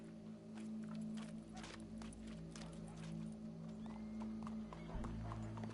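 In the video game Red Dead Redemption 2, a steady clip-clop of horse hooves plods along under a constant background hum, with faint voices mixed in.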